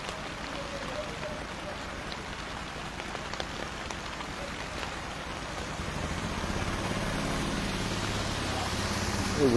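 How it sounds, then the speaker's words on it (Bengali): Heavy rain falls beside a national highway in Kakdwip under dark skies with little wind, a dense continuous patter and hiss that grows louder and fuller toward the end. "তবে বৃষ্টিটা কিন্তু ভালোই হচ্ছে।"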